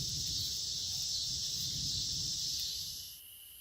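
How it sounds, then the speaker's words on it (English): A continuous high-pitched cicada buzz in summer woods drones steadily, then drops off near the end over a low rustling background. "The cicadas. Just all the bug sounds."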